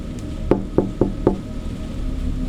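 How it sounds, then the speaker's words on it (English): Four sharp knocks on a wooden door, the first three evenly spaced and a fourth a beat later, fairly close, followed by quiet room tone. "A knock at the front door."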